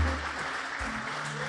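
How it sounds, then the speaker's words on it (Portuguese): Congregation clapping in a church, a dense sustained burst of applause filling the room, fairly even and moderately loud. "Você pode aplaudir a Deus pela vida dele?"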